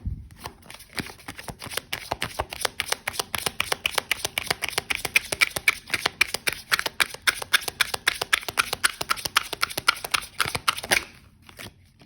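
A deck of oracle cards is shuffled by hand in a close, continuous run of quick riffling snaps and slides for about eleven seconds, then stops.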